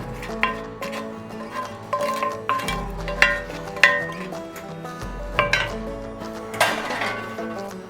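A utensil stirs cooked sausage into a potato mixture in a pan, making repeated clinks and scrapes against the metal in an irregular rhythm, close and moderately loud, with a faint sizzle underneath.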